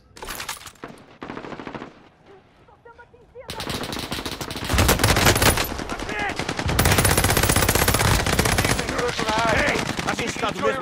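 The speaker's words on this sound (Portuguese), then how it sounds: "Estão atirando em mim." Rapid machine gun bursts in the shooter game Call of Duty: Modern Warfare, loud and dense, with sustained automatic fire after a quieter opening and game effects mixed in.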